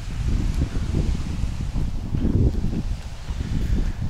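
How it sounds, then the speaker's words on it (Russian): Strong, steady wind buffets a camera microphone beside a lake, a dense low rumble that gusts and swells without pause for the whole stretch, with no other clear sounds above it. "Очень сильный ветер сегодня."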